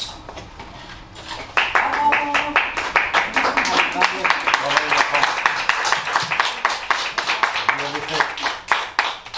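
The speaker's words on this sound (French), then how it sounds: "puis Carole, juste pour vous faire applaudir." Audience applause for children after a reading event in Orange, steady dense clapping that swells after a quiet start and carries on for several seconds, with a few voices mixed in.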